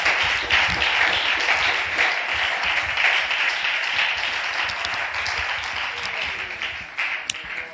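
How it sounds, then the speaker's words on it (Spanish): A church congregation applauding for the Lord, a dense, sustained roar of clapping from a large crowd, loud and close, with voices mingled faintly beneath. "Dale un aplauso al Señor."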